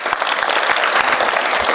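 Loud, dense audience applause at a Marathi kirtan held for a Shiv Jayanti celebration, with continuous overlapping hand claps filling the whole stretch and no voice on top.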